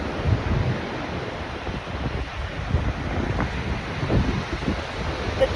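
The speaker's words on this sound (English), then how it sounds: "The tide is just now starting to come in." Ocean waves wash in steadily as the tide starts coming in, a constant rushing surf roar mixed with wind buffeting the microphone, and no one speaking.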